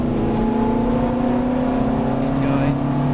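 A Ferrari F430 race car drones steadily from inside the cabin, its engine holding a loud, even tone that shifts only slightly in pitch over a few seconds.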